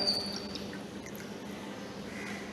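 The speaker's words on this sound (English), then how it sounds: "First, add some water into the beaker." Water poured into a laboratory beaker for a school chemistry demonstration, a steady close trickle running for a few seconds with no talk.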